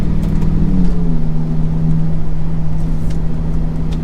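A rebuilt, previously crashed Lamborghini Gallardo drives slowly down a street, its engine a steady close drone with a pitch shift early on as the transmission changes gear, then an even hum.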